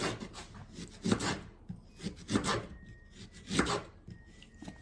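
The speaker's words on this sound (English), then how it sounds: "what I was thinking with the ginger is to cut it into like longer strips" A knife cuts ginger into long strips with repeated rough, rasping strokes that scrape and thud against a board at an uneven rhythm. The strokes are close and moderately loud, with no talking.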